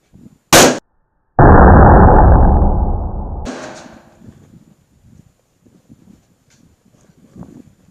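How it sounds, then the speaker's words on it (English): A flashbang grenade goes off nearby with a single extremely loud blast. A sharp crack comes first, then a roaring burst that decays over about two seconds, followed by quiet ringing and faint scattered noises. "So there's very little kick to the actual flashbang, but it's very loud and very bright"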